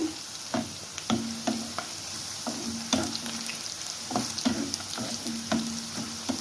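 Onions frying in a pan for onion rice, a soft continuous sizzle punctuated by repeated sharp scraping and stirring clicks, close and moderately quiet with no talking.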